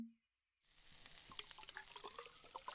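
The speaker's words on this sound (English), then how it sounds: "Too much fizz. It's bubbling over." A healing potion poured onto a small cut makes a soft, steady fizz and hiss, close and quiet, with faint scattered pops of bubbling after a brief silence.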